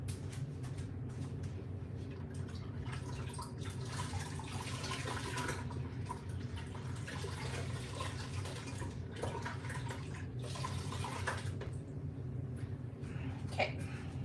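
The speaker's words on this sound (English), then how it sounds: "I'm just going to rinse it. So that's going to rinse off that excess on the surface." Water runs steadily from a tap as a marbled print made with carrageenan is rinsed, a continuous close wash of flowing water over the surface with no voices.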